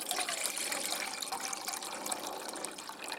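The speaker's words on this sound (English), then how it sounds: "And in with the water." Water pours steadily into a boil pot on a small woodland stove, a soft continuous splashing trickle heard close up and fairly quiet, with no talking.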